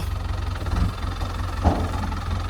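A low, steady tractor engine idling with a rhythmic chugging rumble, close by, and a brief louder knock partway through.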